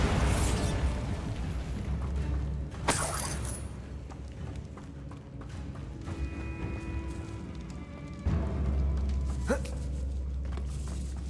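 Bombarda spell explosion in Hogwarts Legacy: a sharp blast near three seconds, then a second burst around eight seconds, set against a steady rumbling game ambience.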